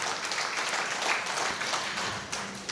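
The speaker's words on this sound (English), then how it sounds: "very big round of applause for this great gentleman" A hall audience at a formal function applauds to welcome a doctor being honoured, giving a steady, dense wash of clapping for nearly three seconds that thins slightly at the end.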